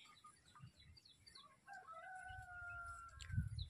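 A rooster crows once, a long drawn-out call rising over a low background rumble, with faint bird chirps scattered around it.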